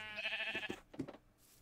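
A sheep in TerraFirmaCraft, a Minecraft game mod, gives a short wavering bleat followed by a couple of softer grunting calls, close and fairly quiet.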